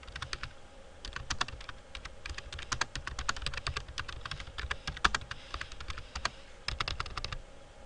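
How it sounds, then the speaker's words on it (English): Rapid, uneven typing on a computer keyboard, many crisp key clicks in a steady stream, close and clear with no talking. "We can add our conclusion using the computer keyboard."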